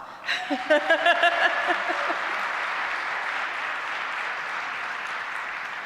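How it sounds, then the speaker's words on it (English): Audience applause at a real estate event celebrating a community property, starting with a few distinct claps and chuckles, then swelling into a steady, even wash of many hands. "I'm just going to start with asking you to give them a round of applause."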